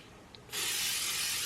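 After a brief quiet moment, a can of static guard releases a sudden, steady aerosol hiss onto tutus, loud and close, sustained to the end.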